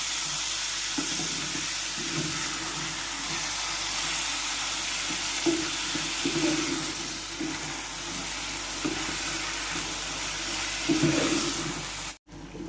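Minced meat for keema aloo frying in a pan, a steady sizzle with soft repeated scraping as it is stirred, close and even throughout with no talk.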